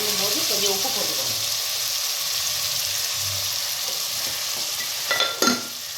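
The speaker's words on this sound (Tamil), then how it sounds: "வெங்காயம் வதங்கும் போது கொஞ்சம் உப்பு போட்டுக்கோங்க." Onions frying in a pan while being stirred, a continuous close sizzle with soft scraping stirs, ending in a brief splash or pour near the end.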